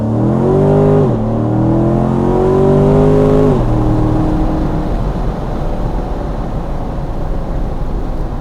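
A 2019 C7 Corvette Stingray in track mode launches, its engine revving hard and climbing through gears, with loud rising whines and a gear-change dip, then settles into a rushing, roaring cruise.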